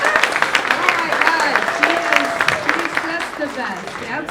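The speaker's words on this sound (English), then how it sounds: "do we have to give an extra round of applause to Barbara?" Crowd at a live variety comedy show claps and cheers for a performer, dense applause running steadily under a host's voice talking over it.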